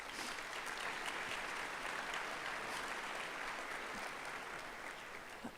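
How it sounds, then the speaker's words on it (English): An audience at a university engineering building grand opening gives the trustees a long, steady round of applause, dense clapping heard from some distance at low level. "A big round of applause for our trustees."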